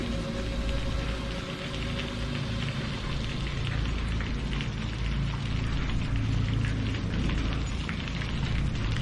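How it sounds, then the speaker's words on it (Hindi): Heavy torrential rain pours down steadily and loudly throughout, a dense close hiss of drops with a low rumble underneath suggesting distant thunder; no voices. "आसमान से मूसलाधार बारिश टूटकर गिर रही थी।"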